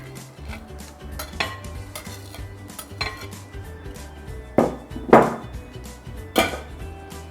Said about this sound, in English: So let me put the fish inside the bowl first.